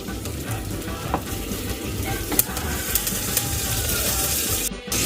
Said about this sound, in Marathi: राई जिराचं फोडणी देणार आहोत आपण।